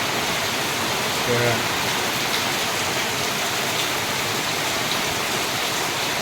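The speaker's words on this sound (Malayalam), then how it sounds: "ഇടക്കിടില്ലാത്ത മഴ" Heavy rain pours down in an unbroken wash of hiss, loud and steady, with a brief faint voice early on.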